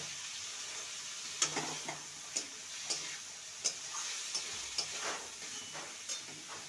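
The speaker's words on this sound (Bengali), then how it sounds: "ভালো করে মশলার সাথে নেড়ে নেব।" Tempered whole spices are stirred into masala in a frying pan for a banana stem dish, giving a steady sizzle with sharp, close ticks of a spoon against the pan at irregular intervals and no talking.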